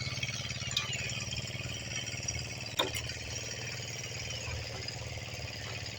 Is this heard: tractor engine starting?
yes